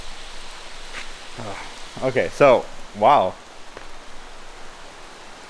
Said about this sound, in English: it's raining so hard right now.